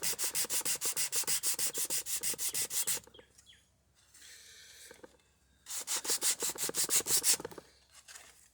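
Sandpaper rubbing on a wooden mast for a Chamberlain Alpha Dory, steady rapid back-and-forth strokes in two close loud bursts separated by a quieter pause with faint scraping.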